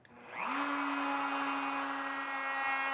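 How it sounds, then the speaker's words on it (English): A router spins up with a rising whine and settles into a steady high-pitched hum while cutting a groove in a wooden board clamped to a bench, close and continuous. "The router must not move during cutting, or the parts won't fit together properly."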